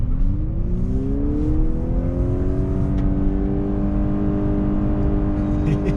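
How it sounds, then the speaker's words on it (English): A 2021 Honda Accord Hybrid Touring engine in sport mode revs steadily upward, a smooth rising drone with whirring harmonics heard from inside the car, continuous and unbroken. "You just kind of hear it revving all the way up."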